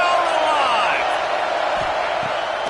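A stadium crowd roars in the college football video game CFB26 during a third-down red zone play. The loud, continuous crowd noise runs throughout under a commentator's voice.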